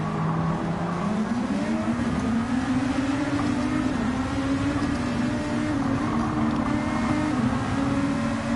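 A Gr.2 race car in Gran Turismo 7 over-revs on a corner exit during open-lobby online racing, its engine holding a loud, steady, high-pitched drone that climbs slightly and sustains for several seconds with no talk.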